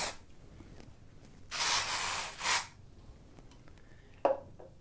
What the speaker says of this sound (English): a little bit of dry shampoo is definitely going to fix that